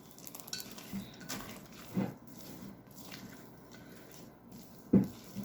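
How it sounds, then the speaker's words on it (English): A spatula folds chopped add-ins into vegan rocky road muffin batter in a bowl, making soft, wet squishing and scraping strokes with a couple of louder knocks against the bowl; no one speaks. "We're going to mix this in with the spatula."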